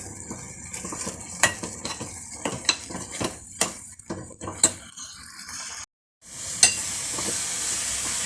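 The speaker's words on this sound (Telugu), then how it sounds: "ఇలా అంటుకోకుండా కలుపుతూ ఉంటుంది మాడదాం అదే మాడిపోతుంది" A spoon stirs a thick coconut and jaggery mixture in a pan, giving irregular sharp scrapes and clinks over a soft sizzle; the sound briefly cuts out before a hiss returns.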